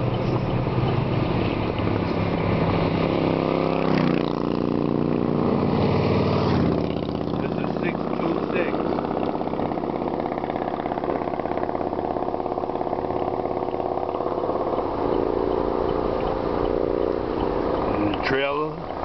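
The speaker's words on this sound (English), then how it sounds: "We got a motorcycle coming up." A motorcycle drawing near on a rural family property in Wingina, Virginia, its engine droning steadily at moderate distance amid wind noise and outdoor ambience.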